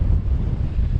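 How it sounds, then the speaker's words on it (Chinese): Strong wind buffets the microphone on a coast by a scenic island area facing the Taiwan Strait, where big sea waves roll in. A loud, constant low roar fills the whole moment with no voices. "哇，这海浪真的很大"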